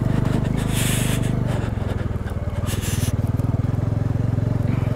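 A motorbike being ridden on a cold mountain road toward Adi Kailash, its engine a loud, steady low throb close by throughout, with faint wind and road rumble layered over it.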